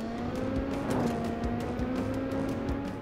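Cars race toward the player in Resident Evil 6, a sustained engine roar with a steady tone and repeated sharp impacts or crashes punctuating it, loud and close throughout.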